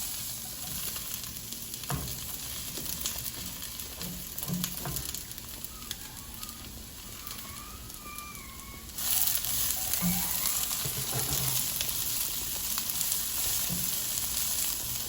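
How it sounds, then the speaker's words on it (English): Carrots and mixed vegetables frying in a pan for vegetable fried rice, a steady bright sizzle that grows louder partway through, with occasional stirring clinks, close and unbroken by talk. "You're gonna wanna cook that until the carrots get a little bit of color"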